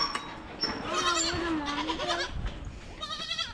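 Goat bleating in a farm pen, several wavering bleats close by, with other goats and background farm noise in between.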